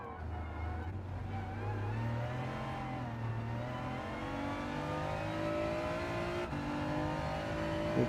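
A Hyundai Elantra race car in Gran Turismo 7 revs and climbs through its gears, a moderately loud engine note rising steadily with a brief drop partway through, and no talk over it.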